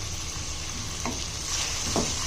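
Chicken and vegetables frying for restaurant-style Chinese fried rice, a dense continuous sizzle with a couple of quick stirring scrapes, close and fairly loud, with no talking.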